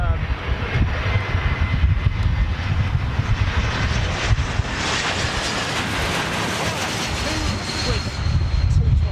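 A Swiss Airbus A220 jet with LEAP-1A engines passes as a steady, broad, fairly muted roar that holds for several seconds while someone talks over it.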